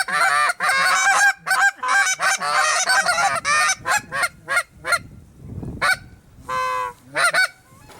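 Canada geese honking close by during a waterfowl hunt, a loud run of repeated nasal honks in quick bursts with brief gaps, trailing into scattered calls.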